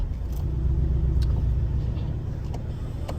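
Porsche 718 Cayman driving off, a steady low engine rumble from inside the car with faint clicks and ticks, no voices.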